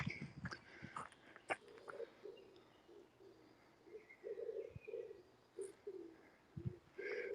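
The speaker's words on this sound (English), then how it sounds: "That's a wood pigeon you can hear" A wood pigeon coos repeatedly from nearby trees on a morning hillwalk, soft rhythmic low hoots in short phrases, mixed with faint rustles and a few sharp clicks and knocks, no talking.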